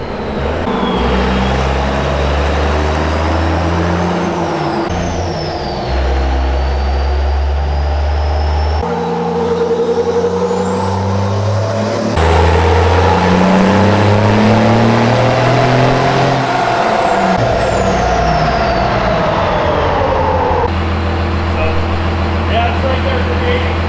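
Turbocharged RatBack truck engine revving hard on a dyno, loud and close. The roar climbs through several gear steps, and a rising turbo whistle sits over the engine note as it winds up and then drops back.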